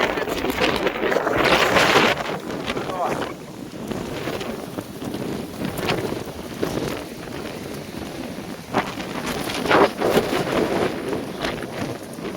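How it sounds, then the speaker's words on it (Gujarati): Strong windstorm gusting outside a house, a loud, continuous roar with buffeting surges and wind pressing on the microphone, steady throughout with no speech. "ભયાનક વાવાઝોડું છે આને કહેવાય."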